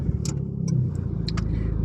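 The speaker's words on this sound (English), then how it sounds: "So, I'm just going to start up the car" A car engine cranks and catches, settling into a steady close mid-range rumble with faint clicks above it; no talking.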